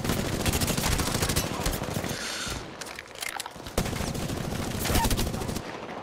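Rapid video game gunfire from a shooter match, dense bursts of automatic shots and single cracks, loud and continuous with a short lull midway, an enemy firing from a rooftop.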